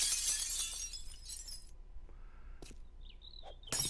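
Glass shatters loudly in the survival game 7 Days to Die: a bright crash fills the first second and a half, followed by quieter scattered clinks and a brief chirpy tone.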